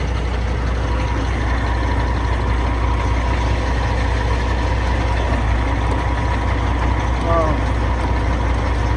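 A truck with an Eaton Fuller 10-speed transmission idles nearby, its engine giving a steady, loud low rumble throughout, with a faint squeal near the end.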